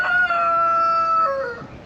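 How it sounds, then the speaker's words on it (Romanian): A rooster crows loudly and close by in a rural yard with hungry hens nearby, one long drawn-out call that fades at the end. "Găinile astea mor de foame"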